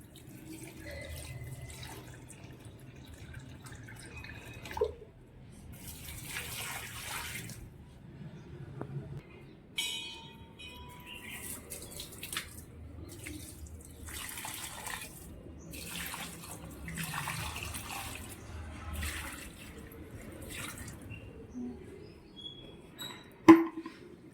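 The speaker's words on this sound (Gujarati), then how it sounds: "હું તો પાણી રેડી તુલસી માતાને." Water poured onto a tulsi plant on a cool winter morning, heard as several short splashing, trickling bursts separated by quieter gaps, with low background murmur underneath.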